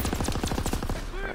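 Rapid bursts of automatic gunfire crackle in Call of Duty WW2 multiplayer, a quick rattling volley of close shots lasting just over a second.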